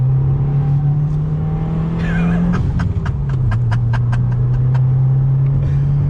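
Subaru WRX engine droning under load, then shifting and climbing in pitch as the car accelerates, with a burst of rapid popping crackles midway.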